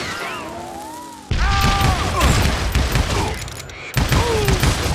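Western shootout gunfire in Call of Juarez: Gunslinger, loud sharp gunshots in quick bursts with a brief pause, mixed with game voices and music.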